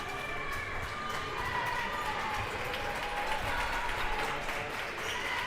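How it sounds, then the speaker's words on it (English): At a high school basketball championship between Homestead and Mount Vernon, fans clap steadily in the stands, a dense continuous patter of applause with crowd murmur and squeaking shoes underneath. "Mount Vernon fans beginning to clap in the stands"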